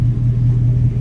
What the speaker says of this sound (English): As you can tell, the vehicle is running.